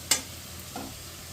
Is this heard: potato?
yes